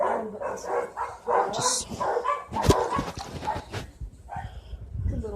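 A small dog yips and barks in short bursts among rustling and movement, fairly close, with a person talking over it.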